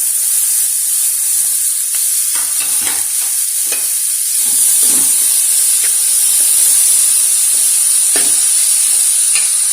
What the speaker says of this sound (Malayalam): ഇത് നന്നായിട്ട് മിക്സ് ചെയ്ത് യോജിപ്പിച്ച് അതിനകത്തേക്ക് നമ്മൾ അരിഞ്ഞു വെച്ചിരുന്ന വാഴപ്പിണ്ടി ചേർത്ത് കൊടുക്കുക